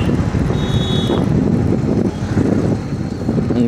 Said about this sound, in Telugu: గాలి బాగా వస్తున్నట్టుంది.